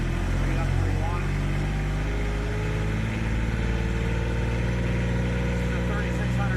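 The Kubota engine on a new Wolfe Ridge 35 HDI log splitter runs with a steady loud drone as the throttle is brought up, continuous and close throughout.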